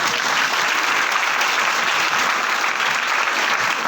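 A church congregation at a Father's Day service applauds in thanksgiving to God, a loud, continuous wash of many hands clapping that holds evenly throughout.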